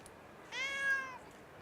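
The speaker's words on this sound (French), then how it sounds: "je regarde une vidéo de petit chat tout mignon qui fait ouh" A single high, drawn-out kitten meow with a rising then falling pitch, clear and close against a quiet background.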